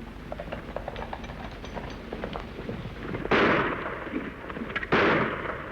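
Two sharp, loud blasts of gunfire ring out about a second and a half apart in a Western shootout near a wagon, set against a busy background of rustling and scattered clatter.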